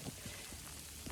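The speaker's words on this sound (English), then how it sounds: "it's kind of like frozen rain, little balls of ice. Sleet." Sleet, small balls of frozen rain, falls and bounces off surfaces in a French village, a faint steady patter with a few soft low thumps, quiet and without voices.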